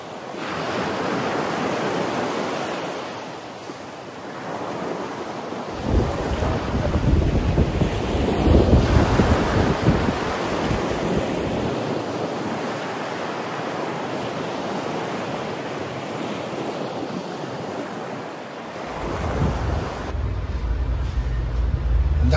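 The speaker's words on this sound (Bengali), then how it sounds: "চোখের সামনেই দেখতে পাচ্ছি দিগন্ত বিস্তৃত বে অফ বেঙ্গল বা বঙ্গোপসাগর।" Sea waves of the Bay of Bengal at Digha, seen from a sea-facing hotel balcony, roll as a continuous broad surf roar with swelling surges, buffeted by wind noise on the microphone throughout.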